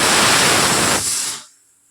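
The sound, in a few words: mixer grinder grinding almonds and cashews into powder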